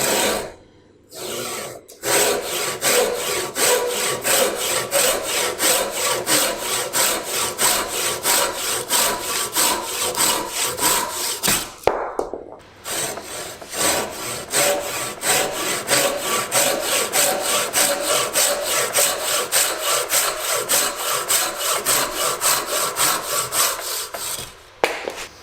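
A Silky Japanese saw cuts through wood in fast, rhythmic push-and-pull strokes that rasp loudly up close. The sawing stops briefly twice and then resumes at the same steady pace.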